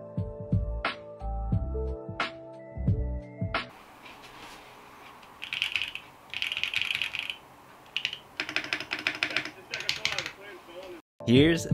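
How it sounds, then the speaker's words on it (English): Typing on a Bakeneko65 mechanical keyboard fitted with lubed and filmed Marshmallow switches, lubed stock stabilizers, O-rings and a PCB tape mod: bursts of close, rapid key clacks in rhythmic runs, after a short stretch of music. "Here's the Bakeneko65 sound test with lubed and filmed Marshmallow switches, lubed stock stabilizers, 30A O-ring, and the PCB tape mod."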